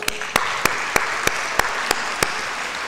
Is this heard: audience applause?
yes